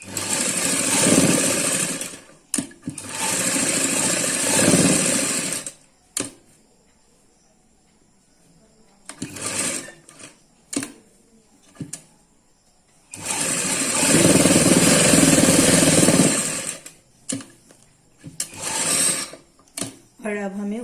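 A sewing machine stitches a suit in several close, loud bursts of rapid whirring, separated by quiet gaps with small clicks and handling noises, the longest run falling near the end.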